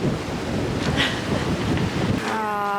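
Steady wind rush and sloshing water surround a sailboat sailing offshore, with a constant blustery roar across the microphone and a faint tonal hum rising near the end; no talking.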